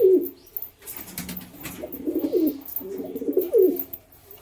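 A pigeon coos in repeated low, throaty phrases, close and clear, with short pauses between calls.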